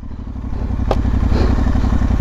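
Aprilia Tuareg 660 adventure motorcycle from 2022 being ridden, its engine throbbing in a steady, even pulse up close, with a single sharp clack partway through.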